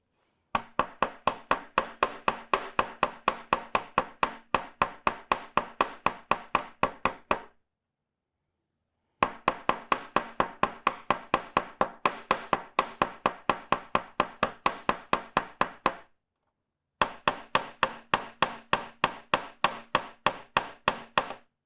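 Rapid, evenly spaced hammer blows ring out flattening metal wire for earrings, in three long runs separated by two brief pauses.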